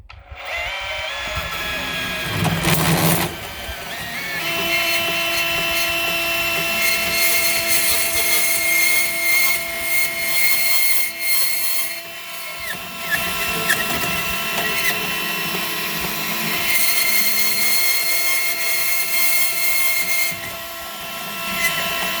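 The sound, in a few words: bandsaw cutting rebar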